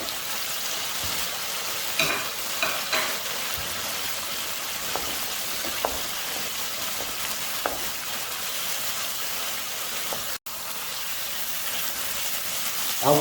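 Shami patties fry in a hot pan with a steady, bright sizzle of oil, punctuated by occasional soft pops and spatter, continuous and close for over ten seconds with no talking.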